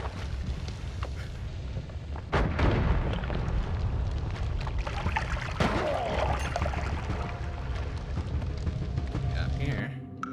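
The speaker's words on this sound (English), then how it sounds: "Oh, that's a bomb." Bombs go off in the pixel roguelike Noita, with two loud bursts a few seconds apart followed by crackling, rumbling debris. A player talks throughout.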